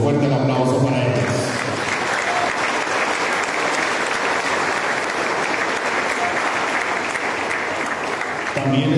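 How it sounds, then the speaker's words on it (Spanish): Audience applause at a solemn council session awarding an artistic merit prize: sustained, dense clapping from a large indoor crowd, loud and even for about eight seconds before tapering off. "Un fuerte aplauso para ellos."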